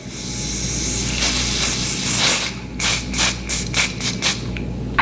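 Aerosol root touch-up sprayed onto the hair part, heard as several short, close hissing bursts in quick succession over a steady background hiss.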